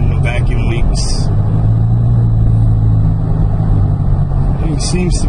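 2012 Hyundai Sonata 2.4 GLS fitted with an oil catch can, driven around the block: a steady low engine and road drone heard from inside, with faint voices and brief clicks over it.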